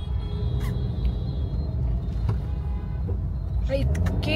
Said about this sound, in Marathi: तर खूप ट्रॅफिक आहे, आता संध्याकाळची वेळ आहे ना, तर खूप जास्त ट्रॅफिक आहे